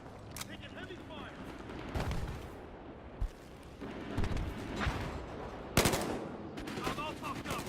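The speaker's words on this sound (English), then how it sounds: "Taking heavy fire!" Heavy gunfire in the video game Battlefield Hardline: bursts of automatic weapon fire and sharp single shots crackle through a busy battle soundscape, with shouted voices mixed in.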